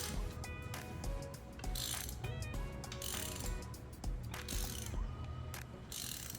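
A ratchet wrench tightens a spark plug coil bolt on a 2020-2024 Ford Escape ST-Line 1.5L engine, giving quick bursts of close, faint clicking with short pauses between them.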